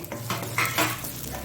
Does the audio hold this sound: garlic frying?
yes